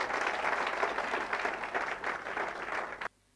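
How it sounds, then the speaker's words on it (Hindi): An audience in a meeting hall claps in sustained, even applause that fills the room. It cuts off abruptly near the end and leaves near silence. "एक बार जबरदस्त ताली होना चाहिए"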